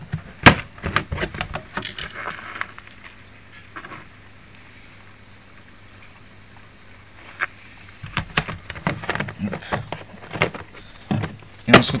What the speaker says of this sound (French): Et ici on a les grillons adultes pour la consommation de mes Pogona.